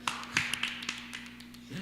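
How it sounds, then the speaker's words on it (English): A single person claps by hand during a live stream giveaway, a few quick scattered claps over a steady background hum. "I'm just gonna clap because we don't have the bell."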